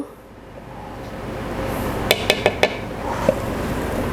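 A utensil stirs melted chocolate and eggs into brownie toffee cake batter in a bowl, with a quick run of four sharp clinks against the bowl then one more, close and clear over quiet background hiss.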